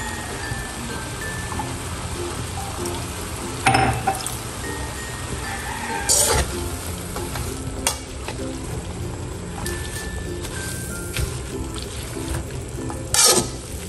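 Sardines sizzle and fry steadily in a pan. Stirring scrapes and occasional clanks of a utensil against the pan sound over the constant crackle.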